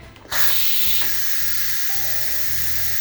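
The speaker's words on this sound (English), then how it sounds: "This little steam cloud button here, I'm gonna release it." A pressure cooker's quick release: a sudden loud burst of hissing steam starts almost at once and keeps rushing steadily. A low rhythmic pulsing runs underneath.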